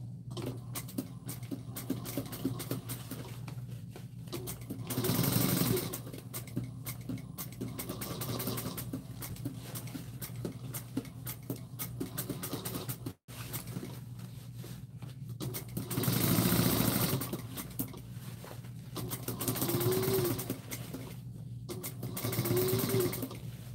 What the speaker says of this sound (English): we're going to sew at a scant 3/8 of an inch